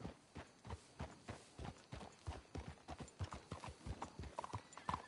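In the video game Red Dead Redemption 2, horses clip-clop along in a steady, quick rhythm of hoofbeats, with a faint whinny near the end.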